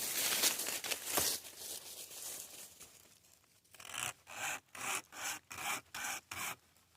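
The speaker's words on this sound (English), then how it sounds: "Let's see what this wire saw will do to it." Cheap survival wire saw cutting through a dry log about 3 to 4 inches thick, rough rasping strokes, irregular at first and then a regular back-and-forth rhythm of about eight strokes, close and alone.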